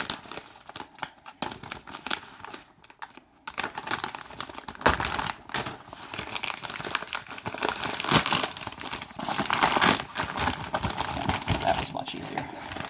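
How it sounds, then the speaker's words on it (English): A large cardboard box being carefully cut open by hand, with close, uneven scratchy slicing and crinkling of cardboard and packing material that runs continuously, growing busier toward the end, with some talking mixed in. "This one, a large box. Don't have the patience to fold around the line, so we're going to very carefully cut this open."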